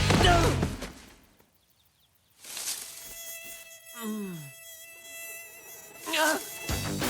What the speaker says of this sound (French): Un moustique!